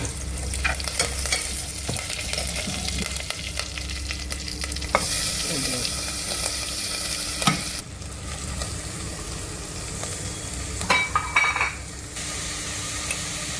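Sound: garlic and curry leaves frying in oil

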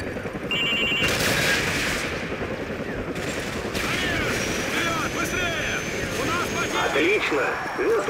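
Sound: enemy helicopters and gunfire in video game Call of Duty Modern Warfare 2

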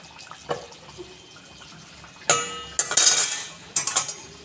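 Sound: lid being removed from cooking pot

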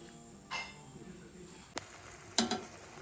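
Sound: stirring Maggi noodles with sauce

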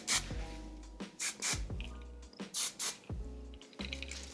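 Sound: hairspray being sprayed onto curled hair

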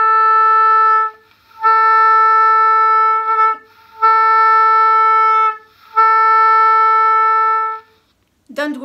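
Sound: beginner's oboe playing with circular breathing

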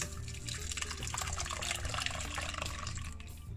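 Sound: pouring and straining a drink

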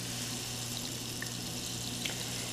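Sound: lye slowly poured in for homemade soap

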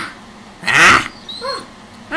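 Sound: child imitating a lion roar

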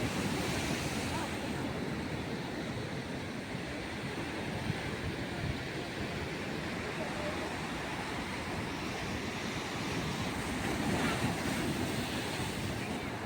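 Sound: sea waves

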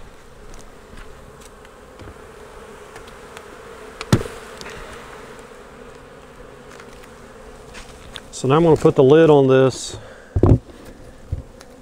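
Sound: honeybees buzzing

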